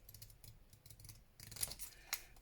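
Scissors trimming paper close by, a few quiet snips and crisp cuts building to sharper clicks near the end, with no voices.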